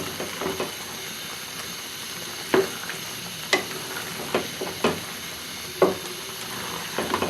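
Macaroni with capsicum is stirred in a frying pan over a low sizzle, with several sharp scrapes and clacks of the spoon against the pan at irregular intervals.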